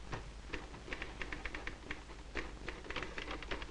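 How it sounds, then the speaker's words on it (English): An Elite typewriter tapping out a steady run of quick keystrokes over a constant low background hum, moderately close, with no voices. "I know my Elite typewriter types 12 letters to the inch"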